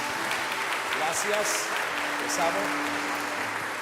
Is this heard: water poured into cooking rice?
no